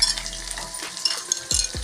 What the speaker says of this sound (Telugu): ఇప్పుడు ఉల్లిపాయ ముక్కలు వేసుకొని కలుపుకోవాలి, తర్వాత పచ్చిమిరపకాయలు, క్యారెట్ ముక్కలు,